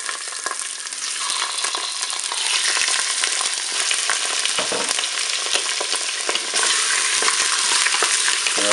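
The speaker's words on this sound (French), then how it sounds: "On va faire revenir les hauts de cuisse." Chicken thighs browning in hot oil inside a preheated Cookeo multicooker, a loud, dense, steady sizzle with crackling spatter and occasional shifting as pieces are moved.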